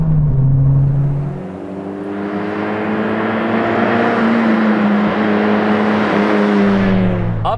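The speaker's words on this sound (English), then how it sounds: "a really boomy, loud exhaust, which is not really the place you kind of want it to be loud and boomy." Loud, boomy drone from a RoadsterSport race exhaust on a Mazda Miata NC while driving, the low exhaust tone holding steady and rising slightly in pitch as engine speed climbs.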